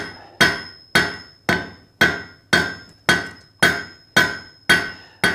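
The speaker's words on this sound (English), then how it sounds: "So we're going to get to forging this out, bending it, and preparing it for the weld." A hammer strikes steel on an anvil while a meat hook is forged, ten sharp, ringing blows at a steady, even rhythm about half a second apart, each decaying quickly, with no talk.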